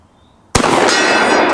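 One loud, close blast from a Rossi Overland coach gun shotgun fired outdoors at a metal buffalo target, an abrupt report after quiet that rings on with a sustained metallic wash.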